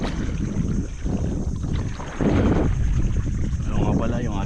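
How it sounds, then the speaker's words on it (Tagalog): Strong wind buffets the microphone out on open water from a small fishing boat, a continuous rough rumble that swells louder partway through, with water sloshing against the hull and a faint voice in the background. "Malakas ang hangin ah."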